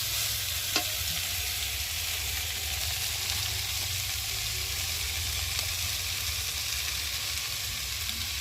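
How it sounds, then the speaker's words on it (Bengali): Cooked rice frying and being stirred in a pan for fried rice, a steady close sizzle with soft scraping stirs throughout, no talking. "চলো এবার ভাতগুলোকে দিয়ে ভালো করে একটু ভেজে নেব, নেড়ে দিই যাতে তলায় না লেগে যায়"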